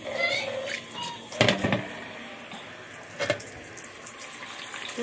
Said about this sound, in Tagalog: lagyan pa natin ng konting tubig